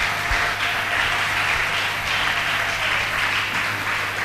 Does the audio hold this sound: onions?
no